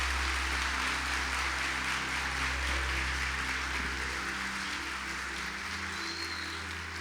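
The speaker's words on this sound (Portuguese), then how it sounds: "aplaude a Ele o mais forte que você puder" A church congregation applauds in a dense, steady wash of clapping that holds at an even level throughout, with a low hum beneath it.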